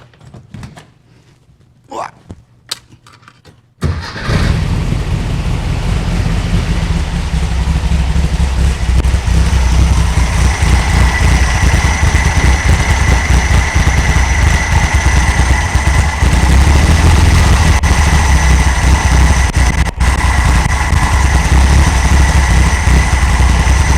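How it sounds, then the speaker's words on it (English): A 1964 Volkswagen Beetle engine cranks and catches after some quiet clicks and handling noises, then settles into a steady, loud, throbbing idle that runs on unbroken, with a voice speaking briefly beforehand. "But let's turn this key and see if she fires."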